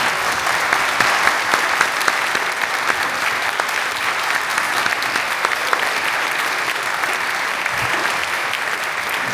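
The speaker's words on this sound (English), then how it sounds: "this round of applause from us is for all of you" Sustained applause from the audience at a literary reading, as many hands clap in a dense, loud, continuous patter that holds steady for several seconds without any voices over it.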